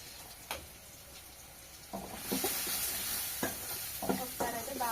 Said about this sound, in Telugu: ఒకసారి అయితే బాగా కలిపేసుకుంటున్నాము